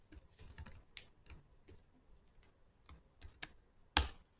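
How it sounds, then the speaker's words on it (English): Code being typed on a computer keyboard: a quick, irregular run of close keystroke clicks, faint and alone, ending in one louder key press. "you can simply type var list"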